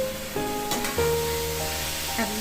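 A sweetened vegetable curry is stirred in a pan, giving a soft, steady sizzle and scraping under sustained background tones, with a brief louder scrape near the start.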